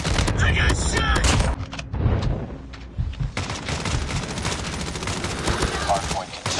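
Rapid automatic gunfire in a shooter game using a QQ9 build crackles loudly in dense bursts, with brief lulls and overlapping game voice callouts.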